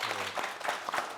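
Studio audience applauding a band on a television variety show, a steady wash of clapping that stays even and moderately loud throughout.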